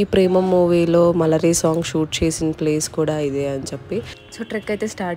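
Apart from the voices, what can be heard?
None of the usual background noises is heard.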